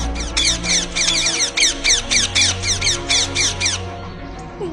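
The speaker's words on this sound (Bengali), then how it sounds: "আশপাশ দিয়ে এক ঝাঁক টিয়া পাখিও ভয়ে উড়ে যায়।" A rapid series of harsh, high squawks repeats in quick bursts, like parrots calling together, over a low rumbling background.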